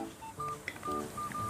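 A mobile phone rings indoors with a faint electronic melody of short beeping tones, steady and fairly quiet.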